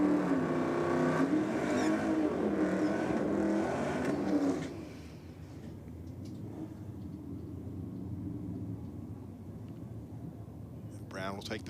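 Drag racing cars launch and roar down the strip at a New South Wales championship meeting, a loud engine blast in the opening seconds that drops to a softer, receding rumble, with announcer commentary over it.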